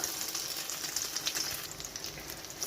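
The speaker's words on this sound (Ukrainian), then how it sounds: "Смажимо на великому вогні" Steady crackling sizzle of egg-battered chicken fillet patties frying in hot oil in a pan over high heat, with quick popping spatters throughout, close up and without any talking.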